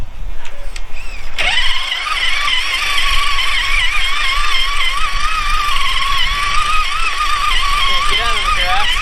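An RC car fitted with an Injora 80T motor runs in second gear, giving a steady, fairly loud electric whine that wavers slightly in pitch over about nine seconds, with voices talking over it.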